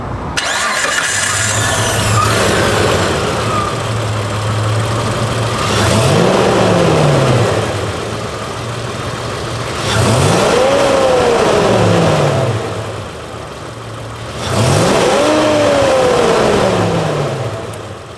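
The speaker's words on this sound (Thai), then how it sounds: "มาฟังเสียงเครื่องยนต์กัน" A Mitsubishi Pajero Sport 3.0L V6 SUV engine revs up repeatedly from idle, three rising and falling throttle blips over a steady low idle, close and loud.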